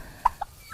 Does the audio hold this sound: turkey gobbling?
yes